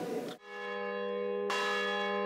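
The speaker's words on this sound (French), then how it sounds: "Volée de cloches" Church bells ring loudly, with two strong strikes and a rich, sustained resonance humming between them.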